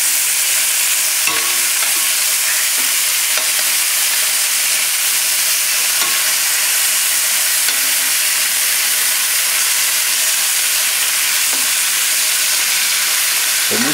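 Hot pan of seafood and chicken stew ingredients roasting with a loud continuous sizzle and hiss, broken by scattered scraping strokes of a utensil across the pan bottom, close and steady throughout.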